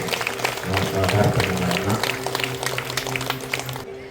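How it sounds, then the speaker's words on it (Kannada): A crowd applauds a yoga performance with a dense patter of clapping that builds and then tapers off. Voices carry through the clapping. "ತಾವೆಲ್ಲರೂ ಜೋರಾಗಿ ಚಪ್ಪಾಳೆ ತಟ್ಟಿ"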